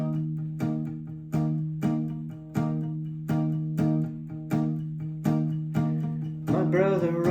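An acoustic guitar plays the short intro of a song with steady, evenly spaced strums, close and clear; a brighter, busier flourish of notes closes the passage, and no one speaks.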